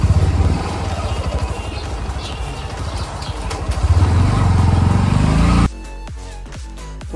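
A motorbike arriving at Green Park in Kashmir rumbles loudly at close range, its engine note rising briefly before it cuts out abruptly, leaving quieter outdoor ambience and faint clicks.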